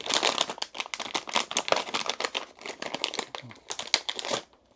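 Plastic bag packaging crinkling as an airsoft magazine for a Marui Glock 17 Gen5 MOS is unwrapped, a dense run of close crackles and rustles that continues for several seconds with brief pauses.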